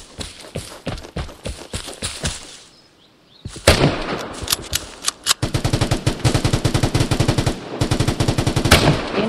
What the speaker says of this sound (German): Der schießt einfach drin und ballert der wohl umher.